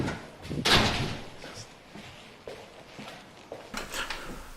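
An office door swung open, giving a loud bump and thud near the start followed by softer clunks and rattles of the handle and frame, close by, with no talking.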